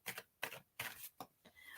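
Tarot cards shuffled by hand make five crisp, papery riffling bursts with short gaps between them, close and clear, with no talk.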